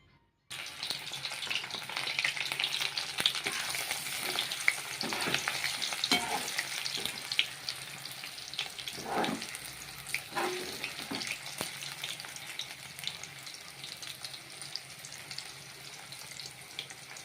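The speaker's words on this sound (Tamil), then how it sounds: "கடாயை அடுப்பில் வைத்து எண்ணெய் ஊற்றி காலிஃப்ளவரை பொரி பொரி பொரிக்கிறதுக்காக எடுத்து உள்ளே போட்டிருக்கேன்" Oil sizzles and crackles continuously as cauliflower fries in a pan, with occasional stirring clatters and spoon scrapes.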